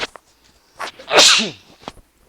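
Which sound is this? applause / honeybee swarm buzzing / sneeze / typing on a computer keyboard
sneeze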